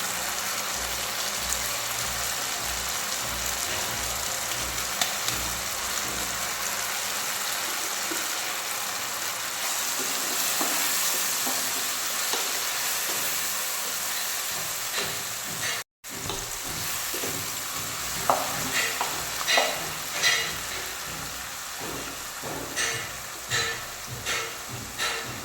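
Masala for a multigrain noodle biryani fries in a pan with a loud, continuous sizzle, and scraping, clinking stirs become more frequent toward the end.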